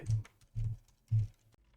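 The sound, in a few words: typing a vim shortcut on a computer keyboard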